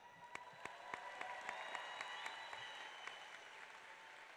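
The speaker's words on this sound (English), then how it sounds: "we can give an applause for that" Steady applause from a graduation audience at a high school ceremony, a dense wash of many hands clapping at an even level throughout, with a few sharper claps standing out.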